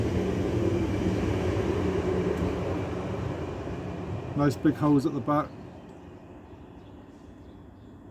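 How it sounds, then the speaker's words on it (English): A train rumbles past steadily in the background of an outdoor garden, a broad continuous roar that fills the scene while someone speaks briefly partway through. "Excuse the train going by"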